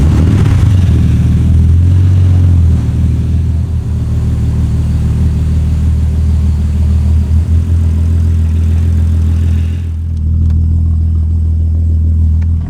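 Ford EF Falcon fitted with a Barra engine rumbles loudly and close, a deep throbbing drone with revving surges early on, then settling to a steadier lower idle-like burble near the end, with no talk.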